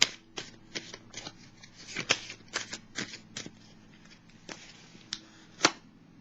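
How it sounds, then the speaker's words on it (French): Tarot cards laid down one after another on a surface, a series of light, sharp slaps and flicks at uneven intervals, close and fairly quiet, with no speech. "je vais déposer une carte sur elle."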